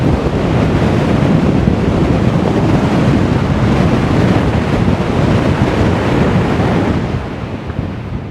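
Strong wind buffets the microphone in a loud, continuous roar on the Gozo coast of Malta, with dense rumbling gusts that ease slightly near the end.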